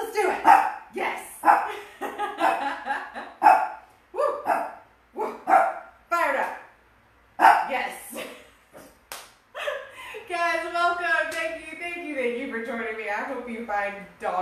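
A dog barks repeatedly in short, loud bursts at a workout class, the barks mixed with people talking and cheering nearby, followed by a stretch of sustained voices.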